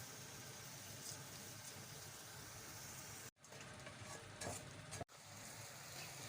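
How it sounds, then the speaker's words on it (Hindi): Garlic, ginger, salt and chili sizzle steadily in hot oil while being stirred, a faint continuous frying hiss with a couple of brief dropouts and occasional scraping. "लहसुन अदरक नमक मिर्च जो है वो अच्छी तरह मिक्स हो गए हैं और वो थोड़े भून चुके हैं"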